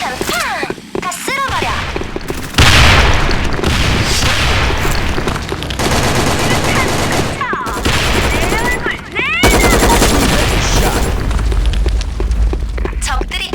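In the online shooter Sudden Attack, gunfire crackles in bursts around a heavy bomb blast, with booming low rumbles and rapid shots over several seconds while a player talks.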